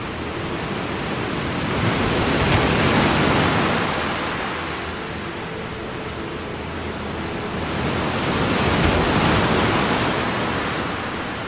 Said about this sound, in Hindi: जैसे जैसे समुंदर करीब आया, लहरों की आवाज, जो सुबह सुनने में बहुत प्यारी लगती थी,